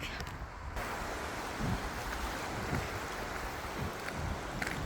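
Surf washes in continuously over shallow water at Batog Beach, Burgos, Pangasinan, with soft crashing swells and breezy rumble, no talking heard.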